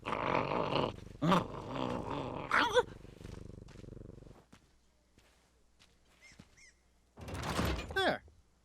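Spiffy, a dog in a pirate video game, gives a low, rumbling growl with a purring quality, steady and close for a few seconds, then a brief rough burst after a pause, with someone talking over parts of it.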